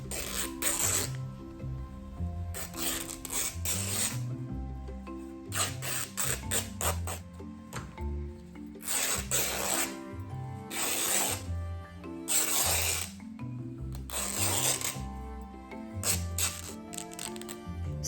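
Fabric torn by hand into long strips for yarn: a run of sharp, raspy ripping bursts, each lasting a second or so, repeating in a steady rhythm at close range with no talking.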